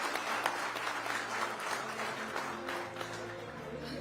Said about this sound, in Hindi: जोरदार तालियां समाजवादी पार्टी के सुप्रीमो